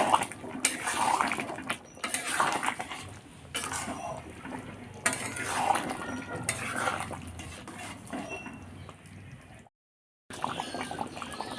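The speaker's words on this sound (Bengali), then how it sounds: "চিকেন কারি মশলা দিয়ে আমরা খানিকক্ষণ একটু ফুটিয়ে নেব।" Chicken curry with chicken curry masala simmering in a pan, with steady bubbling and occasional clinks of a spoon against cookware, close by, pausing briefly near the end.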